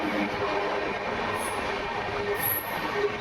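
Train travelling toward Makrana Junction in Rajasthan, on the Bhagat Ki Kothi–Visakhapatnam Express: a steady, loud rolling rumble with a continuous broad rush of noise and a couple of brief high wheel squeals, no voices.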